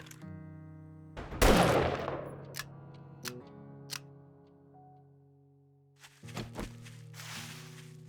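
Gunshots in 7 Days to Die, one loud sharp shot followed by a few scattered fainter cracks and clicks over a steady hum of game ambience, with another small burst near the end.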